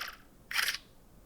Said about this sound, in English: when you do use these glasses for taking photos or videos, it has a very loud shutter sound